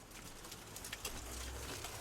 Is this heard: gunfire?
no